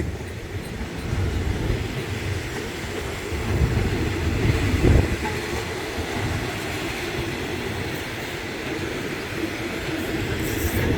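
A GEK4040 diesel locomotive hauls a passenger train toward Bang Sue, giving a loud, steady rumble of engine and rolling wheels that swells briefly midway, with no voices.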